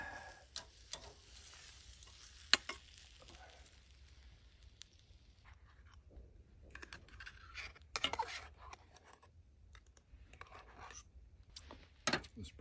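Bison ribeye steak sizzling in a pan over a campfire, a faint steady hiss and crackle with a few sharp clatters and scrapes as it is flipped, quiet throughout.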